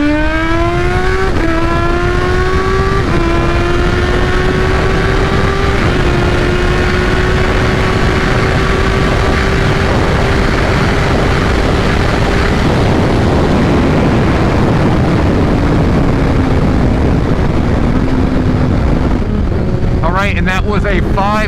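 A 2021 Kawasaki Z H2 motorcycle accelerates hard from 60 to 130, engine rising in pitch through several gear changes, loud and close with heavy wind rush throughout.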